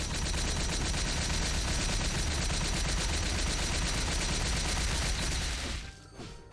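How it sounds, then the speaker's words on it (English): Rapid grenade explosions spammed in the game Wild Hunter, a loud, dense, continuous barrage of blasts for about five seconds that then cuts off abruptly. "and then you spam grenades."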